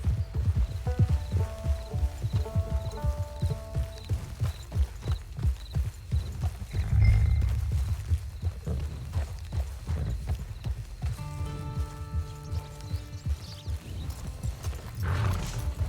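Horse hooves clip-clop in a steady rhythm close by, with occasional snorts and a short whinny, over soft tonal music, from the video game Red Dead Online.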